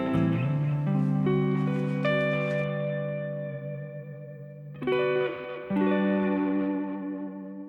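Electric guitar chords from a Burns Club Marquee ring out with chorus and echo effects, sustaining and fading, then a couple more strummed chords.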